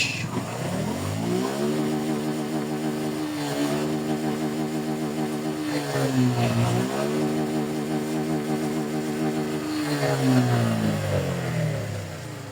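A motorcycle running near top speed at about 132–134 km/h on nearly empty fuel, its engine drone steady and close, with pitch rising and falling across several gear changes and accelerations.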